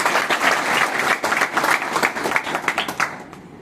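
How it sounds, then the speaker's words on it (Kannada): An audience at a temple festival at a hiremath in Afzalpur claps loudly and continuously. The applause is close and crowded with no talk over it, and it thins toward the end. "ಅವರಿಗೆಲ್ಲ ತಾವು ಜೋರಾಗಿ ಚಪ್ಪಾಳೆ"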